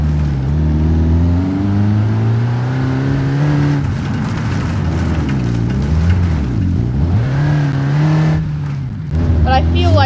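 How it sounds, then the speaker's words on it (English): A diesel-engined Cherrier Tograc car in the BeamNG.Drive video game revs up and down repeatedly, its loud, close engine tone rising and falling in waves over several seconds before a short lull and a final sharp rev. "It just has a diesel engine instead of a gas engine. And you can hear the difference between gas and diesel."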